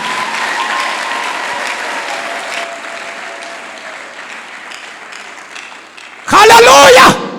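Applause from a church congregation fills the room, starting strong and gradually thinning. A loud, close voice breaks in near the end, speaking over the fading clapping.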